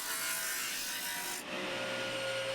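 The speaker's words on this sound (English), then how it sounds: "I can feed them into the drum sander and get them all to the proper thickness" Drum sander feeding wood panels to thickness, a dense abrasive roar with a short dip as the stock passes through, continuous and close.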